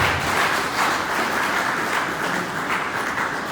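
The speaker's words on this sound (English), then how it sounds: "Please let's give them a round of applause" An audience applauds at the Cross River State Education Summit in Calabar, with steady, dense clapping that holds evenly from start to end and no talk over it.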